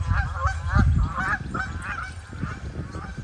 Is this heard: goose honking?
yes